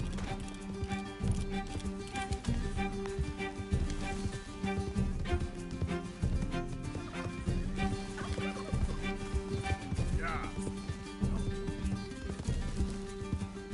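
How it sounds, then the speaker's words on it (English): A horse gallops with a steady, rapid clip-clop of hooves under continuous game music in Red Dead Redemption II on PS4 Pro, the rhythm holding throughout. "Can't this horse go any faster?"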